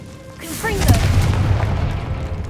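A Confringo explosive spell goes off in Hogwarts Legacy, a sharp booming blast with rising magical whooshes that swells into a loud, rumbling explosion and then slowly fades with a low echoing tail.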